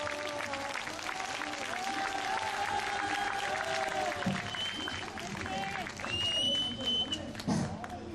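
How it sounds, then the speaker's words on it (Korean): An indoor audience claps to welcome a speaker at a Korean gathering, a fairly dense, moderate applause that swells and fades with some shuffling and a few louder claps near the end. "뜨거운 박수로 맞이해 주시기 바랍니다"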